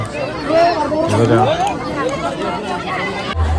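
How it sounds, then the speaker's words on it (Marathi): A crowded Narli Purnima festival scene in Satpati, with a nearby voice speaking over busy crowd chatter and background bustle throughout. "तर मित्रांनो आता पूर्णपणे गर्दी झालेली आहे"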